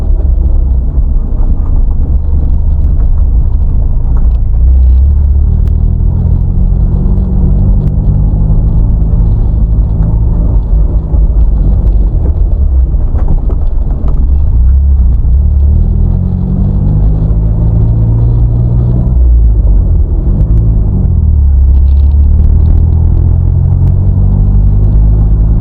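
A car drives over a rough, bumpy road in St. Elizabeth, Jamaica, giving a steady, loud low rumble of engine and road noise with some wind buffeting throughout, and no talking.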